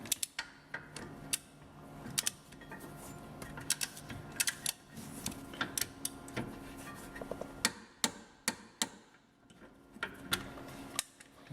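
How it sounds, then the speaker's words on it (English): Torque wrench ratcheting and clicking while tightening the brake caliper anchor bolts on a Jeep WJ in a garage, with a run of sharp, irregular metallic ticks and clicks close by over a low background. "We got our torque wrench set."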